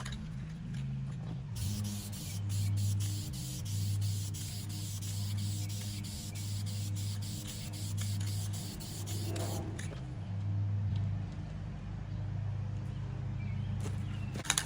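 Spray paint can hissing a steady coat onto a fiberglass camper, a continuous close spray running for several seconds with a brief pause partway, over low background hum.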